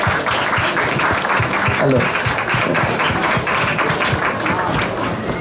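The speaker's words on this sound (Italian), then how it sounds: "Accogliamoli con un applauso." Applause at a San Miniato truffle awards ceremony welcomes guests onto the stage, loud and close, with sharp individual claps in a dense crowd sound and a voice briefly speaking over it.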